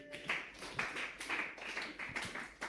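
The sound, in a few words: applause in church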